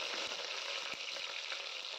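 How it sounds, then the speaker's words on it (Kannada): Chopped onions and curry leaves fry in hot oil after cumin seeds, making a dense, steady sizzle close up, with faint stirring taps underneath. "ಈರುಳ್ಳಿ ಸ್ವಲ್ಪ ಗೋಲ್ಡನ್ ಬ್ರೌನ್ ಕಲರ್ ಆಗೋವರೆಗೂ ಫ್ರೈ ಮಾಡ್ಕೊಳ್ಬೇಕು"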